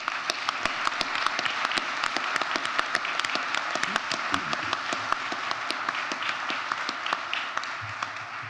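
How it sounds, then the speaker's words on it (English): An audience at a fire service awards ceremony applauds steadily, many hands clapping in a dense, even patter that carries on for several seconds with no talking over it. "let's go ahead and applaud him anyway."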